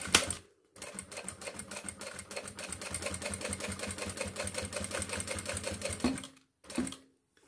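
A sewing machine stitching synthetic leather for a women's wallet, a fast, even mechanical clatter running steadily for several seconds, then stopping briefly and giving a short final burst, close and clear with no talking.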